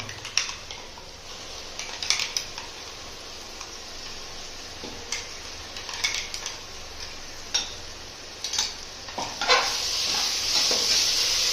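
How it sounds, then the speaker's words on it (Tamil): Ginger garlic paste sautéing in a pan for home-style paneer biryani, a low steady sizzle broken by sharp scattered spatula clicks and scrapes against the pan, with no talking. "இஞ்சி பூண்டு பேஸ்ட் போட்டு நல்லா பச்சை அளவு அளவுக்கு வதக்கணும்"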